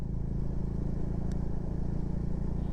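A Bajaj Dominar motorcycle engine idles with a steady low thrum and a mild rise and fall in revs, close by and without talk.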